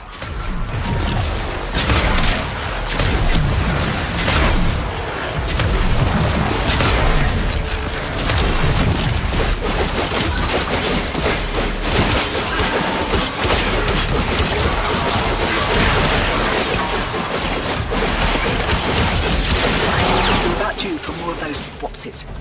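Dense, continuous barrage of booms and crashes, like explosions and gunfire in the game Warframe, loud and sustained throughout with little pause.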